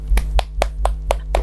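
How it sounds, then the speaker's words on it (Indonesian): Six evenly spaced claps ring out one after another in a small classroom, a single person's hands rather than a crowd's applause. "Berikan tepuk tangan"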